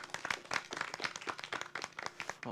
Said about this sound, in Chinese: 咱讲掌声甲吹落去。